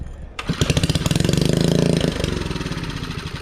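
A small mini bike engine, running only on brake cleaner, catches and revs close by with a rapid, raspy putter that swells then eases slightly, heard alone.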